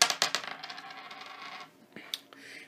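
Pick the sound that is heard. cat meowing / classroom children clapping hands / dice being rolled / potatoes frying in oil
dice being rolled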